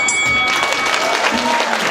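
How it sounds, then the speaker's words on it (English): Audience at a high school Christmas improv night breaks into applause, a dense steady wash of clapping with some faint voices and tonal sounds mixed in over two seconds. "Give them both a round of applause"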